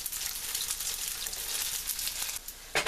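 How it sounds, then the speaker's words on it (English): Oil sizzling in a pan as it is drained after frying seitan, a close, steady crackle and hiss with a brief louder burst at the end, no talking. "Okay, now I'm going to drain some of the oil."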